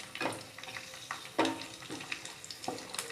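Fruit pieces being sautéed in ghee for halwa, soft sizzling broken by intermittent scraping stir strokes, quiet and close with no talk.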